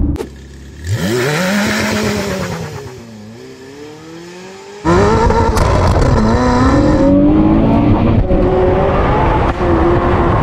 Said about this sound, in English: Oh, that's better, but still so much wheel spin.